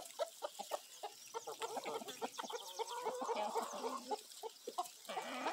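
A free-range farm chicken clucks and chatters in a series of short, irregular calls, a rooster-like note among them, faint and a little distant with no talk over it.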